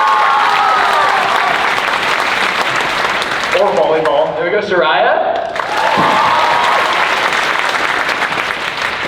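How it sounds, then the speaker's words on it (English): Graduation audience claps and cheers for classmates at a 2024 ceremony, dense continuous applause filling the whole stretch while a voice speaks over it midway. "when we shout these people out, I want you to clap for them"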